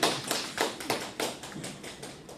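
An audience at a research talk applauds in a short, dense burst of clapping that swells and fades, recorded from close within the room.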